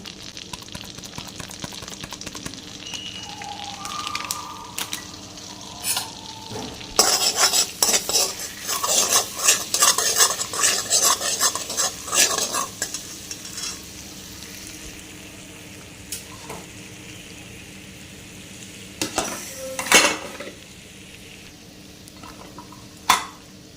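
Capsicum frying in a pan for a paneer capsicum curry with chilli powder, stirred with a spoon: a steady sizzle under bursts of scraping and clinking, busiest in the middle and near at hand, with no talking.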